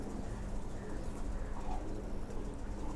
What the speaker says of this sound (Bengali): কবুতরগুলো দেখুন, ভালো কবুতর দেখুন